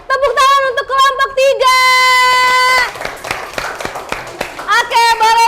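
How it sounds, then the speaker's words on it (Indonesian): A class claps for a student group in brief bursts, with loud tonal children's voices and shouting over much of the clip. "Kasih tepuk tangan untuk kelompok"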